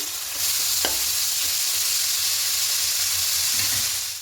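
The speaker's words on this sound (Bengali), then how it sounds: "এবার এটা খুব ভালো করে একটু ভেজে নেব অনেকটাই নরম হয়ে গেছে" Vegetables for a vegetarian fried rice frying and sizzling in a hot pan, with a steady loud hiss throughout and a sharp scrape or clink of the stirring spoon near the start.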